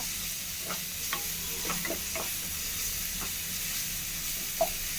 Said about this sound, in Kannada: ಫ್ರೈ ಮಾಡ್ಕೊಳ್ತಾ ಇದ್ದೀನಿ ಚೆನ್ನಾಗಿ.